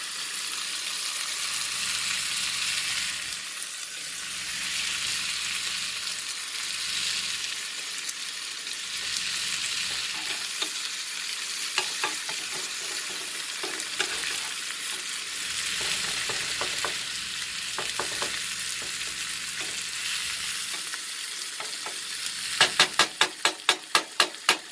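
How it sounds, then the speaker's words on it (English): Onions re-warm and fry in a ceramic pan, sizzling steadily with occasional stirring scrapes, then a burst of sharp clicks near the end, with no voices. "Go ahead and warm those new onions back up."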